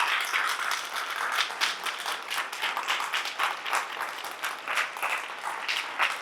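Audience applause at a church sermon, a moderate crowd clapping steadily for about six seconds with irregular overlapping claps and no voices above it.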